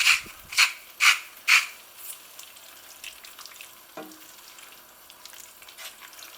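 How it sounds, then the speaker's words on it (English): Spicy chard and black beans being stirred in a pan: four rhythmic scraping strokes of a spoon come close and clear at the start, followed by quieter occasional scrapes and a soft knock against a low sizzle. "Make sure everything is mixed together really well."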